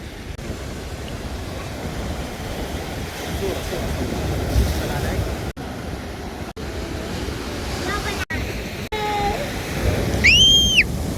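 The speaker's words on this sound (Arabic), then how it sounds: "ما شاء الله الموج كثير عالي." High ocean waves break steadily on a seashore beside a birthday party, with strong wind rumbling into the microphone and a few brief chirpy sounds near the end.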